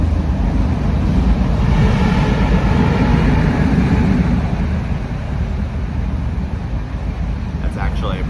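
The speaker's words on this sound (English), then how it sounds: "That's actually a pretty quiet train today." Train passing outside, heard as a steady, dense rumble that fills the whole stretch, fairly loud and continuous, easing slightly toward the end.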